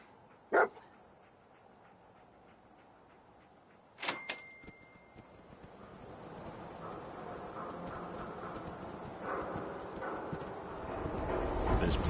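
Dogmeat, the dog companion in Fallout 4, gives a couple of sharp barks in a busy game scene, one early and a louder burst around the middle, over rising ambient noise and footsteps.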